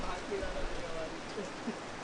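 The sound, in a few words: rain falling during an ultimate frisbee match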